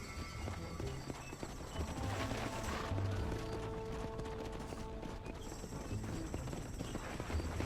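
Several horses gallop in the Red Dead Redemption video game, with continuous clip-clop hoofbeats, an occasional whinny and a busy in-game background.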